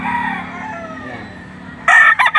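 A talisain rooster at a poultry market crows once, loud and close, with a broken, drawn-out call near the end, after a stretch of low market murmur.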